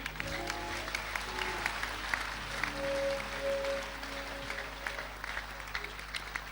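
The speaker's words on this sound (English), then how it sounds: "Is that all you can do in clapping?" A church congregation claps during a Sunday service, moderate scattered clapping over sustained organ or keyboard chords, with individual claps standing out.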